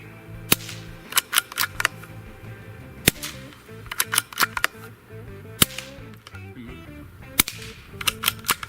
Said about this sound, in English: Sounds like the firing pin is loud. Louder than the gunshot.